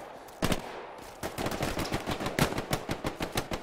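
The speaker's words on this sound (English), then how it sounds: "You're taking fire from the building" Rapid gunfire rings out in a World War II video game, starting with a couple of single shots and then settling into a steady automatic burst of evenly spaced, loud, close reports.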